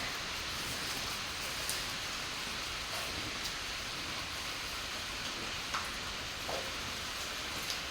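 Steady rain falls all day, a dense, even hiss of drops with a few sharper patters standing out now and then.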